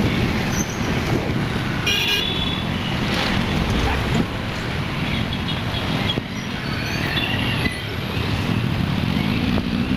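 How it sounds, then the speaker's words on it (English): Dense urban road traffic on a street in Bangalore, India, with a steady loud roar of engines and repeated car horn toots cutting through, heard up close from outside an office. "So much traffic."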